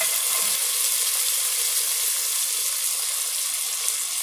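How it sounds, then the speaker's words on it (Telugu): Chopped vegetables frying in a pan for restaurant-style veg biryani, a steady bright sizzle with no break and no voices. "ఇప్పుడు ఇంతకుముందు మనం కట్ చేసుకొని పెట్టుకున్న కూరగాయ ముక్కలన్నీ ఇందులో వేసుకుందాం."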